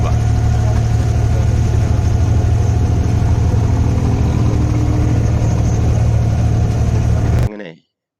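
Steady low rumble of a small wooden abra boat's engine on a Dubai Creek crossing, loud and constant throughout with a faint voice mixed in, cutting off abruptly near the end.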